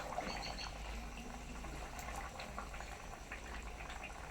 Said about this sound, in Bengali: কত সুন্দর তো টকবক করে ফুটছে